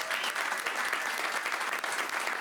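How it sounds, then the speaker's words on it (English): An audience at a live magic performance bursts into brief, full applause, many hands clapping in a dense, even roar for a couple of seconds. "Let's give him a big round of applause, guys."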